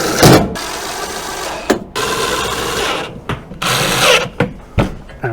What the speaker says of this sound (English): Let's cover on with a couple of these little screws.